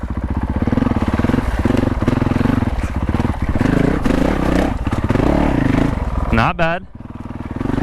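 A Honda CRF450L motorcycle is ridden with its engine running loud and steady, shifting in pitch with throttle changes, and a brief rev near the end, while a rider speaks briefly.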